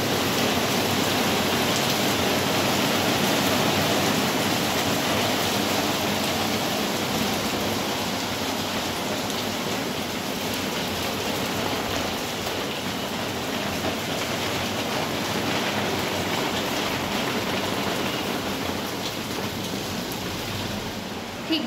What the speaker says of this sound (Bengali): মুষলধারে বৃষ্টি নেমে গেল।